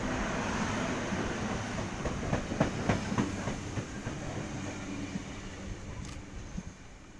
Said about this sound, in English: we have our Waratah arriving into platform number two